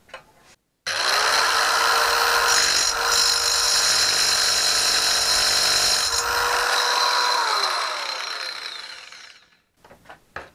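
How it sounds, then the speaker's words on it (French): A Teccpo mini circular saw cuts through tile, starting abruptly and holding a loud, high-pitched grinding whine for several seconds before spinning down, with short rattling handling noises at the edges. "on va passer maintenant à la découpe du carrelage"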